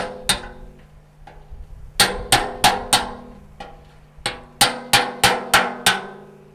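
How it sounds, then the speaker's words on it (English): Hammer blows on a sharp chisel cutting into a metal charcoal retort, sharp ringing metallic strikes, single hits then two quick runs of about five evenly spaced blows, close and loud. "Use a good sharp chisel."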